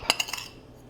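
A spoon clinks quickly against a bowl a few times while mixing sugar and cinnamon, short light taps that fade into quiet.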